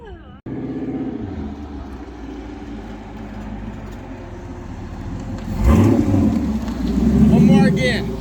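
A turbocharged Town Car engine idles with a low rumble and is blipped with the throttle, the revving swelling twice near the end, loud and close.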